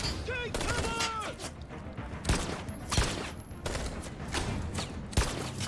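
Gunfire erupts in Detroit: Become Human, a series of sharp shots and short fusillades punctuating a tense scene at moderate distance, while a person talks over it.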